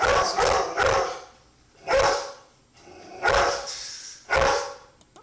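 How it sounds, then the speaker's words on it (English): A collie barks in an old home video, giving four or five loud, close barks spaced a second or so apart, each with a slight echo. "that dog is my collie who passed away 5, 6 years ago"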